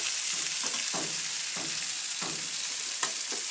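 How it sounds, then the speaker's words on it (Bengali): Tomatoes frying with spices in a pan give a steady, close sizzle with soft periodic stirring scrapes, continuous throughout and without talking. "আমরা এখন টমেটোটাকে একদম ভাজা ভাজা করে নেব, সুন্দর করে কষিয়ে।"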